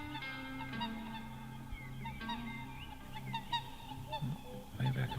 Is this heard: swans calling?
yes